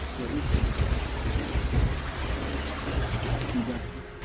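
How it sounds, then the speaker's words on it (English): Heavy overnight rain in Queensland in the wake of former Tropical Cyclone Alfred, a dense steady wash of downpour with low rumbling, close and fairly loud, with voices faintly present underneath. "as heavy rain continued overnight on Sunday and into Monday morning"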